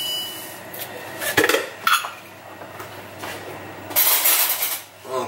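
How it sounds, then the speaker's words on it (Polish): Metal frying pan clanking onto a stovetop, a couple of sharp knocks and scrapes followed by a brief hiss-like rustle, close in a home kitchen. "Włączamy patelnię."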